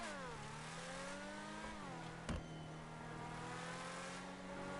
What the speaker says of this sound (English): I'll just listen to the sound of this engine